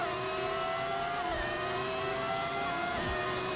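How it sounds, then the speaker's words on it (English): A V10 engine fitted by mod to a Formula 1 car in the F1 25 video game, racing at Saudi or Miami, drones steadily and loudly, its pitch sliding down and back up through gear changes, with no talk. "I'm using a mod that gives it a V10 engine."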